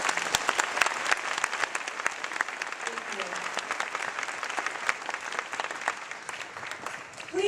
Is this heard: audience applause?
yes